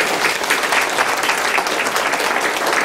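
Audience applause at a Buddhist memorial academic conference in Korea, a steady, dense clapping from a seated crowd filling the room without pause for about three seconds.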